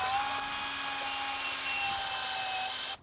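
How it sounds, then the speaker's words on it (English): A drill whines steadily as it bites into a broken bolt in a Toyota engine, a sustained high grinding tone that stops abruptly at the end. "See if I can't drill this out."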